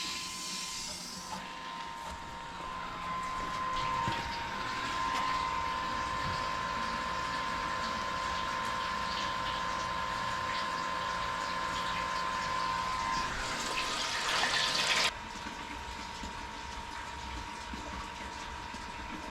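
A pump circulates hot wort through a plate chiller and its line with a steady mechanical whine and a constant hiss of flowing liquid. The whine cuts out abruptly near the end, leaving a softer hiss.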